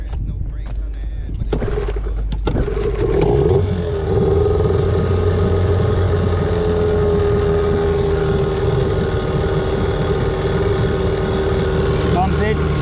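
An outboard boat engine is pull-started with a few sputtering cranks, then catches and settles into a steady, loud idle hum that runs on close by.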